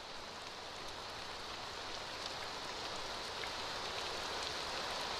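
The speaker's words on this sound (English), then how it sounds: "Sound of rain is getting so intense." Heavy rain in an anime scene pours as a continuous, fairly faint bright hiss that slowly builds in intensity, with no talking over it.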